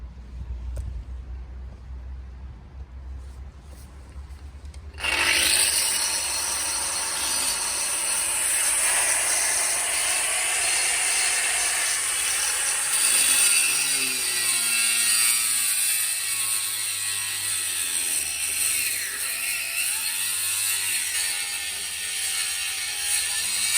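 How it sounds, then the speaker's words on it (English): A cutting blade grinds through a fibreglass boat transom with a loud, sustained high whine and a steady hiss. It starts abruptly after a few seconds of low rumble and keeps shifting in pitch as it follows the cut. "now we're going to cut along the line with just a cutting blade."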